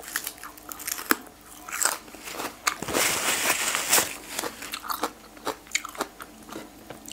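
Crunchy pig ear being bitten and chewed up close, with repeated crisp crackling bites and a longer loud crunch in the middle, alone with no talking.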